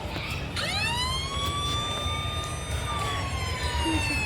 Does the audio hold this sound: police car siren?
yes